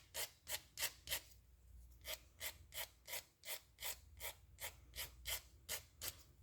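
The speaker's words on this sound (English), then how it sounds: "take a nail file and just sand off any of the excess paper that's kind of hanging over the edge" Nail file rasping along a paper-covered edge of a jumbo paper clip doll, about seventeen quick, even strokes in a steady back-and-forth rhythm, close and clear with no talking.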